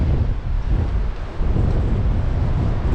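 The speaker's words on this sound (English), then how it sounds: "seriously windy morning today" Strong morning wind on coastal dunes in South West Western Australia roars and buffets the microphone continuously, a deep, rumbling gusting noise with no voices.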